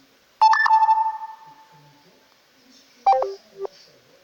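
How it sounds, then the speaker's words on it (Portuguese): A mobile phone notification sound previewed in the settings menu: a bright electronic two-tone chime that rings out and fades, then a shorter quick beeping pattern a few seconds later, clear and close. "Som de notificação."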